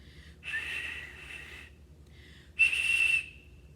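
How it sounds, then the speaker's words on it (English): A toy whistle football sounds as air rushes over it, giving two short, loud, airy whistle bursts, the second louder and sharper than the first, with faint breathy noise between them. "we're going to hear what it would sound like with air rushing over it."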